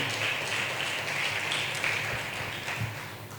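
A church congregation claps together in a soft, continuous wash at a modest, distant level, with a few low thumps mixed in and no clear talking over it.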